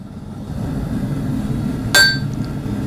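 A hammer strikes hot steel once while forging a knife, a single sharp metallic strike over a quiet low hum, leaving a brief bright ringing tone.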